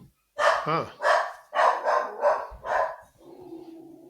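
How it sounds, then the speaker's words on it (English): A small 25-pound dog lets out a string of six sharp, loud barks and snarls in close succession, then a low rumbling growl trails off at the end, heard up close with no talk. "That growl sounds vicious."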